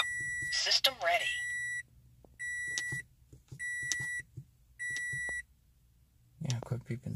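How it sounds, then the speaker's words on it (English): An electronic system emits a series of steady, high-pitched beeps in regular bursts, with someone talking briefly before and after. "Yeah, quit beeping."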